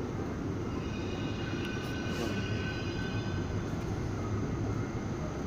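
A metro train at Petrovsko-Razumovskaya station in Moscow, northbound toward Altufyevo and Seligerskaya, gives a steady, loud low rumble with faint high whine throughout, a few brief squeals and clanks rising over it.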